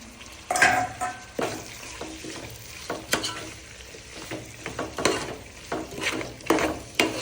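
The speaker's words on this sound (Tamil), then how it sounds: "நல்லா கிண்டி கிளறி விட்டுக்கோங்க, அப்போ தான் நல்லா வதங்கும்." Mint and coriander sauté in hot oil for white biryani, a steady sizzle punctuated by repeated scraping and clanking strokes of a spoon stirring the pan.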